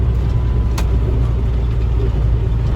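Cars pulling out of a lot on a rainy night, a steady, loud, low rumble of engines and road noise with no one talking.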